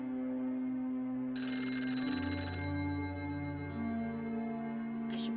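A telephone rings in the Miss Clue mystery game, a bright electronic ring sounding twice over a steady low musical drone, clear and close with no talking.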